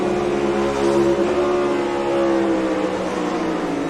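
The engine of a NASCAR race car, the number 77, drones loudly and then drops in pitch and fades as the ignition or power is switched off.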